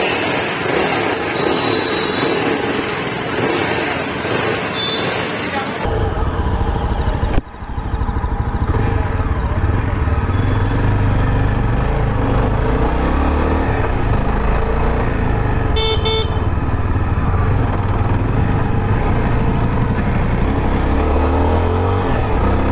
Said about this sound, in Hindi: ये तो फुल्ली एडवेंचर बाइक है